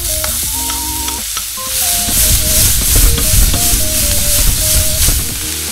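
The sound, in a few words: onions frying in oil with garlic in pan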